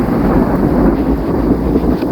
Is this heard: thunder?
yes